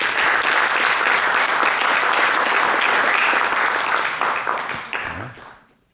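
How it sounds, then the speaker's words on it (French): Enthusiastic audience applause after a café-conference talk, dense and steady clapping that fades away over the final second. "Bonne main d'applaudissements."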